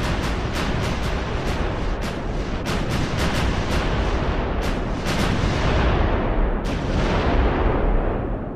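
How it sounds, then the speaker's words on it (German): Artillery bombardment during the battle of Ortona, a dense continuous roar of heavy guns with repeated sharp blasts and booms cutting through a constant rumbling barrage, loud and sustained throughout. "Die Artillerie versetzte die Bevölkerung in Angst und Schrecken."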